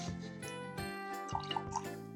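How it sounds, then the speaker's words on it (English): Water, 100 grams, is poured into a jar for sourdough, with soft dripping plops and small splashes near the end, faint, over a steady background hum. "And I'm going to put 100 grams of water."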